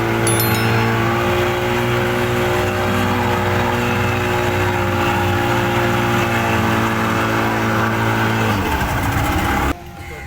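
A motor boat engine runs steadily and loudly on the River Ravi, its drone holding even throughout before cutting out abruptly near the end.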